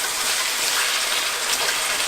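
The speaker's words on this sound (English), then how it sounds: "I would also add in some water, just like a 1/4 cup of water" Water gushes steadily into a cooking pan holding onion sauce and potatoes for chicken yassa, a brief close splashing pour with no talking.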